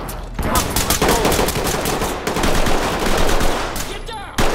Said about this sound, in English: Got someone shooting at us from behind, I think.